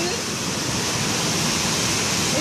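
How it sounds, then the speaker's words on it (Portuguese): A furious waterfall in India roars as a loud, steady broadband rush of crashing water, continuous and close with no pauses. "Testemunhas desta cachoeira furiosa na Índia claramente se sentem imortais."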